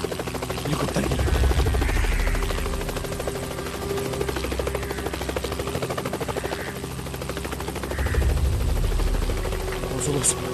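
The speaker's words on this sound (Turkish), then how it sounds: "Helikopter geliyor." A helicopter hovers overhead in a tense military scene, its rotor beating in a rapid, loud, steady chop that swells and fades slightly. Faint voices sit under the rotor noise.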